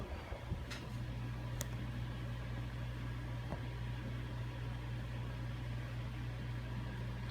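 A 52-inch Dockside Sales Corp. ceiling fan with slightly warped blades spins up, giving a steady low hum and drone with a faint tick or two, close and continuous throughout.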